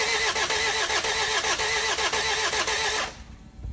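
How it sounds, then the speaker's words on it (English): Diesel Land Rover Freelander engine cranking over on the starter without catching, a fast rhythmic churning held loud and close for about three seconds before abruptly stopping. "I'll put it up here so we can see it as we crank over the engine."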